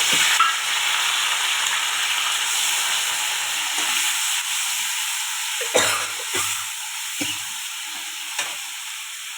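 Onions fry in hot oil for a potato curry, with a steady loud sizzle and hiss close up, broken by a few soft knocks of a stirring utensil.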